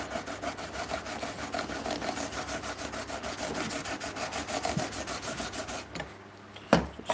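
A steel chisel is rubbed back and forth on a sharpening stone in a woodshop, a continuous rhythmic scraping rasp at close range that stops near the end with a brief knock as the stone is flipped.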